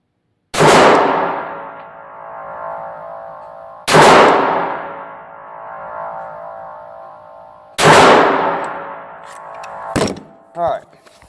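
Three loud handgun shots ring out a few seconds apart at a range, each a sharp crack with a long reverberating tail, followed by faint clanks.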